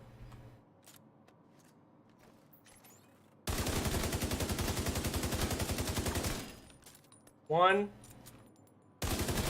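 Gunfire in the video game The Division 2 arrives in two dense automatic bursts, loud and close, separated by quieter game sounds and a whooshing effect, with someone briefly speaking.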